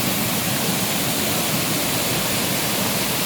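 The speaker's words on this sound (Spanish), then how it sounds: "Esto es la cascada La Victoria." La Victoria waterfall pours in a steady, dense roar of falling water, close and loud with no breaks or other sounds.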